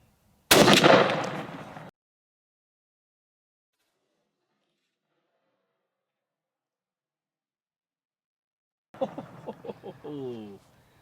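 Nitro Company .562 LW ammunition fired from an SA20 shotgun: a single loud, sharp report close by that cuts off abruptly, followed after a long silence by a short stretch of talking.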